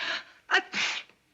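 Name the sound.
sneeze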